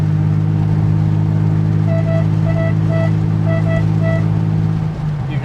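A 1991 Porsche 964 C2 Turbo in Zermatt Silver, heard from the passenger seat with the windows closed, gives a steady, loud, droning engine and exhaust note while cruising, with faint tonal whines above it.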